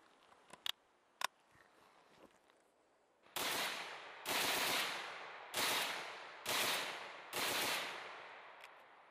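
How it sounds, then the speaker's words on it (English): A German Sturmgewehr assault rifle fires five rapid automatic bursts at an even rhythm, loud and close, after a couple of sharp clicks. "All that combines to mean that this is probably the most controllable assault rifle ever made."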